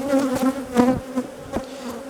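Honey bees fly in and out at a beehive entrance, their dense steady buzz filling the air up close with a few louder passes, and no one speaking.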